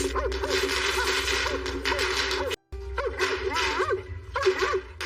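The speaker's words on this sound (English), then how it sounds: "The dog was growling and barking and wanted to get across the property line." A dog barks repeatedly in a rapid, agitated series nearby, with growly tones between barks and a brief cut of silence midway.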